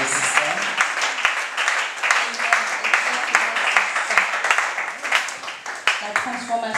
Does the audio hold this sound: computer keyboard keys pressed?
no